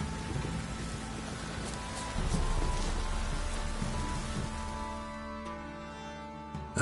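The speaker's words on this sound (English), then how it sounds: "A storm, damn it." Steady rain hisses through a storm in a video game, with a low rumble of thunder swelling midway before fading toward a quieter close.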